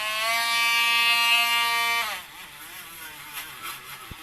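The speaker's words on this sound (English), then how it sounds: "Now, if you've got a Dremel," Dremel rotary tool whining at a high steady pitch while removing an old rocker cover gasket on a Reliant Robin, loud and close, then cutting off abruptly halfway through and leaving quiet background.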